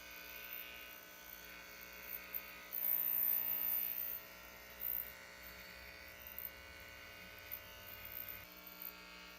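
A quiet, steady electric trimmer buzz while cutting a long beard on a first trim after growing it out, with short louder bursts as the blades bite into hair and no talk.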